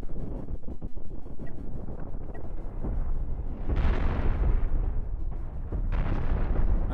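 A big ship weapon in Cosmoteer fires with deep rumbling blasts, followed by heavy explosions that swell and roar, booming loudly in a steady roiling wash with no talking.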